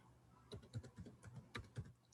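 Keystrokes on a computer keyboard as a command is entered, a quick irregular run of close, soft clicks with no talking.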